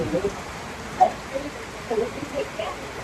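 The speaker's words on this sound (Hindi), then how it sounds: "भाई बारिश कितनी तेज होने लग गई" Heavy rain pours down steadily during a pilgrimage trip to Srisailam, a dense continuous hiss with scattered splashy hits and faint voices murmuring underneath.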